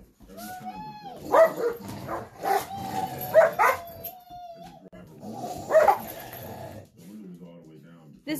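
Dogs playing rough, with growls, yips and barks in uneven bursts close by, separated by short pauses, and faint talk underneath.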